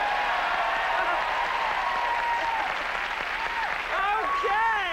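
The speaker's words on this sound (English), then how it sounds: "I want to just test out the applause sign right here." Studio audience applause on a 1987 late-night talk show, a steady broadband clatter of many hands filling the clip, with whoops and cheers rising over it toward the end.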